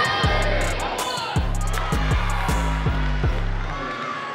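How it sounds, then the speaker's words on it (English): A lively crowd cheers and whoops through a Mater Dei basketball game, with a ball bouncing in steady rhythmic thuds on the hardwood and voices talking over the noise. "The crowd is getting hype."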